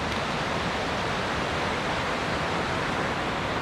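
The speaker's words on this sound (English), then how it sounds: "It is a beautiful creek," Whitewater of a mountain creek in the High Uintas rushes in a loud, dense, unbroken roar, heard close and alone without any voices.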